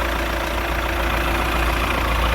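A 2012 Hyundai i20 diesel engine idles steadily up close, with a constant low rumble and a slight knocking texture, with no voices.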